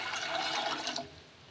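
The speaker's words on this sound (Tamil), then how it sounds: "இதில் ஒரு 2 டம்ளர் தண்ணி ஆட் பண்ணிக்கலாம்." Water pours from a tumbler into a pan for palak rice, a brief, splashing rush that fades out after about a second.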